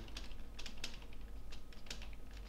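Rapid, steady clicking of typing on a computer keyboard, entering text directly onto an image in GIMP 2.8, close and clear with no voices.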